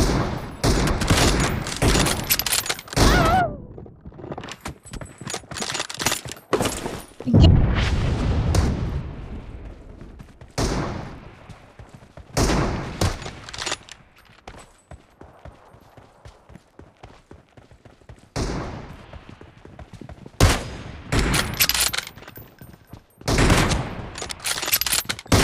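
Game gunfire in PUBG Mobile during a team deathmatch, dense bursts of rapid automatic shots and booms, loud and close, broken by a few quieter gaps.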